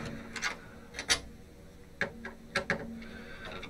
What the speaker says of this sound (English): So I'll take out all these screws